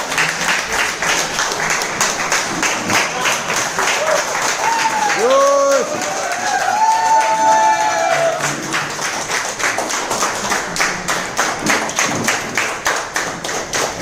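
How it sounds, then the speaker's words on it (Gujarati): An audience at a product gathering in a Maninagar hotel gives a long, steady round of clapping, with a voice briefly rising over the applause midway. "તો એવા લોકોને આપણે જોરદાર તાળીઓથી સ્વાગત કરશું."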